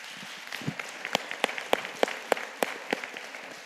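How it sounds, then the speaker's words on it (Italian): Scattered audience applause at a talk, a handful of distinct, fairly close claps in an irregular rhythm over a quiet room, tapering off. "Grazie dell'applauso"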